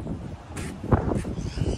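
Strong outdoor wind buffets the microphone in uneven gusts, a continuous rough rumble with brief swells and a few rustling bursts, and no talking.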